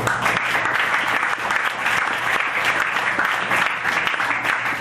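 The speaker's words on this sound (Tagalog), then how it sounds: "pumalakpak sa Panginoon" A church congregation applauds in praise during a Filipino worship service, a steady, dense wash of many hands clapping that fills the room without pause.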